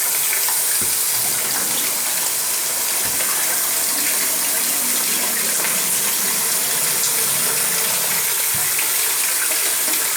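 Water from a tap gushes steadily while something from an old metal computer case is rinsed and washed off, a loud, continuous splashing flow close by, with a few faint knocks underneath and no talking.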